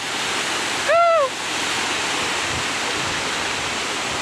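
Steady broadband rush of water flowing over the dam at Brindavan Gardens in Mysore, a constant roar with a brief whistle-like tone near the start and no talk.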